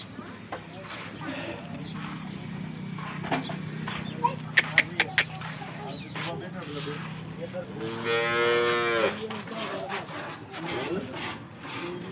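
Local Banaskantha cows on a farm give a drawn-out moo near the end. Before it come hoof clops and a few sharp knocks, while a person talks over the farmyard background.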